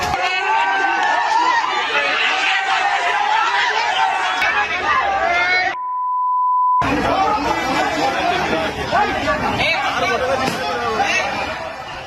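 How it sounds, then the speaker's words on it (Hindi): A crowd stirs up a loud commotion inside a store, a constant babble of many agitated voices with shouting and chatter, briefly cut by a single steady beep before the clamor resumes. "देखिए आप स्टोर में कैसे हंगामा किया गया है"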